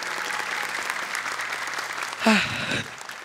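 Studio audience applause for a young Quran memorizer and her mother on a televised competition, a steady moderate clapping wash, briefly overlapped near the end by a voice speaking.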